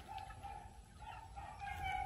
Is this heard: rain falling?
no